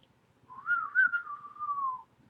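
A person whistles a single sustained, wavering tone for about a second and a half, close and clear against near silence, with no talking.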